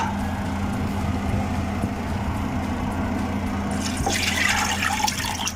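Water poured into a cooking pot while making pata tim, heard as a steady close rushing pour that grows brighter and splashier toward the end, with no talking.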